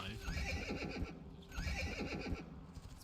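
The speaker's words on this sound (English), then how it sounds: "the horse sound is the one I don't like" A horse in The Quinfall video game neighs and whinnies twice in quick succession, each call over a light clip-clop of hooves, fairly faint and without speech.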